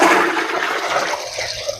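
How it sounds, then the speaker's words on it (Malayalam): Water poured from a bucket into a drum while preparing homemade plant fertilizer, a close, loud gushing splash that runs continuously and tapers slightly at the end, with no talk. "ഒരു 3 ബക്കറ്റ് വെള്ളം കൂടെ ഞാൻ ആഡ് ചെയ്യും ഇതിൻ്റെ അകത്തോട്ട്"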